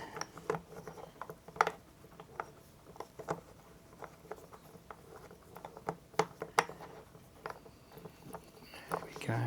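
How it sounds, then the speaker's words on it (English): A wrench tightening a bolt on a Trojan convertible creeper seat from Bunnings, giving quiet irregular metallic clicks and ratcheting taps at close range against a soft background hiss. "I'll just get a wrench on that and just give it a tighten up."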